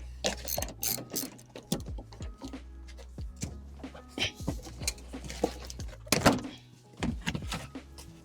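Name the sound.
ratchet undoing 10 mm nuts in a Range Rover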